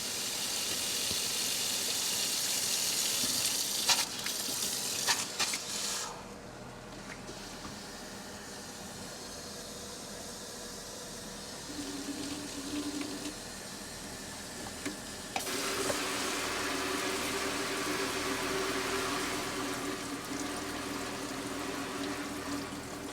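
Steady rushing water pours nearby from RV taps, a broad hiss that dips briefly then swells louder again toward the end.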